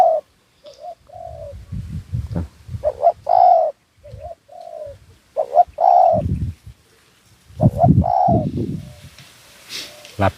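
Spotted dove giving repeated soft, low cooing phrases in bursts, moderately close, with other birds chirping faintly in the background and no talking.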